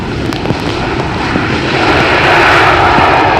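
An airliner arrives on runway 18R at Amsterdam Schiphol in wet, windy weather, its engine roar a loud, broad wash that swells steadily toward the end.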